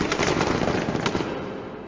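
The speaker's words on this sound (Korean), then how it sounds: "초소에서는 대형 텐트를 향해 무자비하게 총을 쏘아댔다." Relentless machine gun fire aimed at a large tent from a guard post, a dense, continuous rattle of rapid shots with a few sharper bursts, loud and close with no voices.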